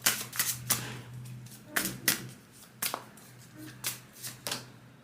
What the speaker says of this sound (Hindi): और एक कार्ड निकालते हैं।